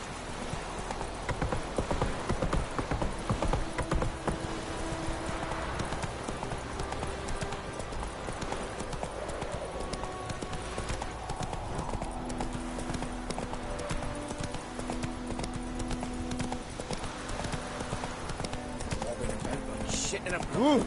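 Roach, Geralt's horse in The Witcher 3, gallops with a steady, loud run of clip-clopping hooves through the whole stretch, under music and occasional voices.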